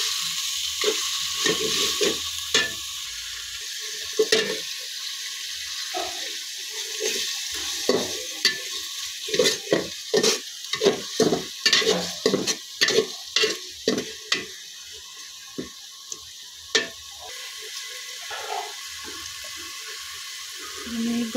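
A spoon stirs spice paste frying in a pot for biriyani, with steady sizzling and repeated scraping strokes in a rhythmic run, close and fairly loud, while a tap runs faintly nearby.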